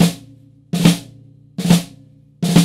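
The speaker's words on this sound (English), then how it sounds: "That's the sound of a drag." A drum plays the drag rudiment: four clustered strokes about a second apart, each a quick grace-note buzz into an accented hit. The hits are close and crisp, with a short decay between them and no voices.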